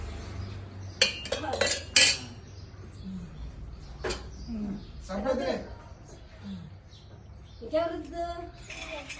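A plate scrubbed by hand, giving scraping rubs and sharp clinks of dishware in short bursts, with voices talking nearby.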